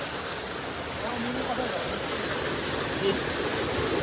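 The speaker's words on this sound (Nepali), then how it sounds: "यो पनि सानो दिनो केटाकेटीले खेल्न मिल्ने खालको झर्ना छ यहाँनिर" A small mountain waterfall in Nepal pours steadily. The rushing, hissing water noise is close and constant with no pauses.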